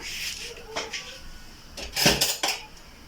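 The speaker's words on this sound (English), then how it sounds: "So just beat in 3 eggs." Eggs being beaten into a creamed sugar and margarine cookie dough in a bowl, with close clinks and scrapes of utensil on the bowl and a brief louder clatter near the end.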